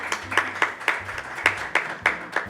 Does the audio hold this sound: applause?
yes